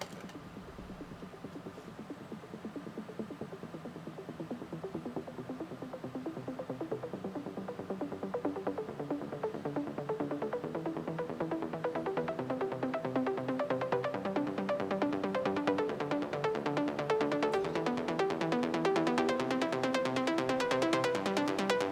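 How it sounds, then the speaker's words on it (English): Bright plucked synth layer from a trance remix, repeating in a steady rhythmic pattern of short notes that swells gradually louder and denser, playing alone without voices. "I'm going to show you what supporting pluck sounds like"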